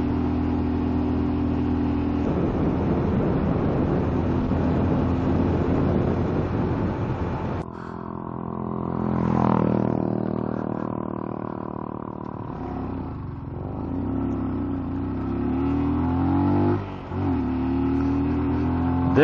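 A car engine lacking power drones steadily and labors climbing uphill at high altitude toward Khunjerab Pass, its pitch rising and falling as it strains, loud and close throughout with no talking.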